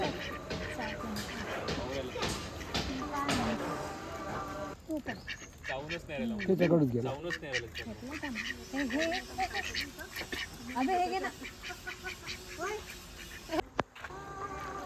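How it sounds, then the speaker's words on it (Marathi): Two ducks at a small pond at a rural meditation center in Chaparda, Yavatmal district, give scattered nasal quacks that are mixed in with steady nearby talking. "त्या तळामध्ये दोन सुंदर बदक होते"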